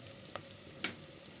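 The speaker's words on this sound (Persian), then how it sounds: "وقتی که پیاز سرخ شد" Onion fries in a pan with turmeric and curry spices, a soft continuous sizzle broken by two light clicks.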